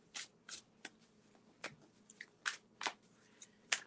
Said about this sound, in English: if you hear that noise, I'm shuffling the cards on the table.